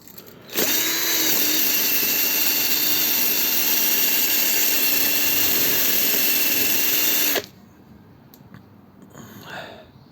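Power drill running steadily for about seven seconds while cleaning a nut on a Znen Tommy 125 scooter during a restoration, a loud close whine that starts and stops abruptly, followed by quieter handling noise.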